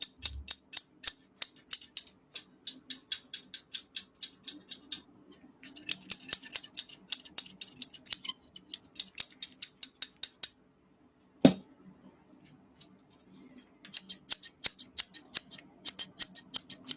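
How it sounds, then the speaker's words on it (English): Scissors snip in quick rhythmic runs of crisp metallic clicks, close up, pausing briefly between bursts with no talking. "This is my favorite pair of scissors that I have."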